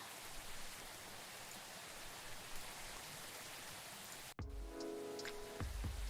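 Steady rain falls in the cozy café game Coffee Talk, a dense hiss that continues unbroken, then cuts briefly and returns with soft chimes and light tones layered over the downpour.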